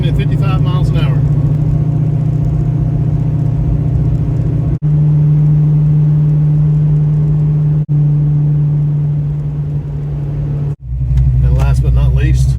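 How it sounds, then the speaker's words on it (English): A Fox Body Mustang with rubberized undercoating cruises steadily at 55 mph, its engine giving a loud, even low drone and road rumble from inside the cabin, with brief dips in level. "Cruising at 55 miles an hour."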